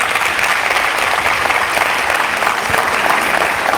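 An audience at a Birmingham City Schools literacy town hall breaks into sustained applause, a dense wash of clapping from many hands that holds steady throughout with no talking.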